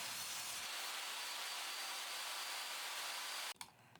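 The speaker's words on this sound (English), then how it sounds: "To do this, I'm using my table saw." A table saw trims excess glue from glued walnut and maple boards, a loud steady whine running close for over three seconds before stopping abruptly and spinning down.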